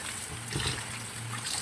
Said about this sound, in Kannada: ಹಾಗೆ ಸೊಪ್ಪು ತೊಳ್ಬಿಟ್ಕೊಳ್ತಿದ್ದೀನಿ.